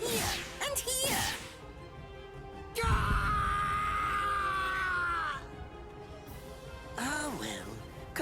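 A man screaming in pain in the Bleach Rebirth of Souls video game, drawn-out anguished cries between sharp whooshing and whip-like hits, with game voices and effects around them.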